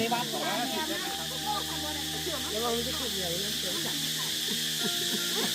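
Steady high-pitched cicada drone fills the whole clip at a rural village gathering in Thailand, with people talking continuously over it.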